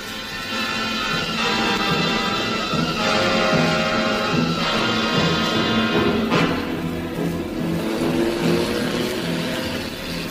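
A car engine revs and drives steadily throughout as a radio comedy sound effect, loud and close, with a brief gear change or surge midway.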